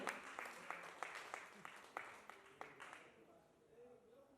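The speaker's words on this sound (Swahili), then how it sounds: "Wanapiga makofi kwa waume" A congregation claps for husbands in a church service, a run of distinct, fairly even hand claps that fades out after about three seconds, with faint talk underneath.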